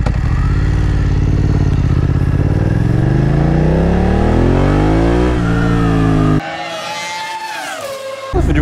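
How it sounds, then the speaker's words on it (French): A motorcycle engine revs hard on the road and climbs steadily in pitch for several seconds, then cuts to a lower, rougher drone before surging again. "Ça fait du bruit quand même. Je la pousse très rarement comme ça la moto."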